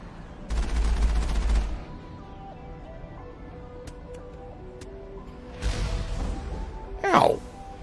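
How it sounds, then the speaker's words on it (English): Turret gunfire in Mass Effect comes as two heavy rapid-fire bursts with a quieter stretch between them, followed by a sharp whooshing impact near the end. "There's a turret up there."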